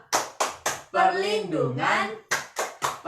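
A group claps out a rhythmic hand-clapping chant about children's rights, sharp close claps in short runs of three on either side of a sung, drawn-out line of voices.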